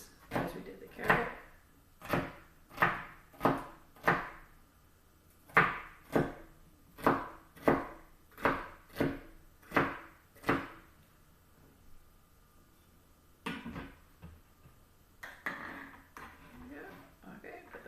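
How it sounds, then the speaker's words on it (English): A knife dices celery sticks on a cutting board, about a dozen crisp, evenly spaced chops in a steady rhythm, close and clear, then a pause and a few softer scrapes and taps. "And then cut those into diced pieces as we did the carrot."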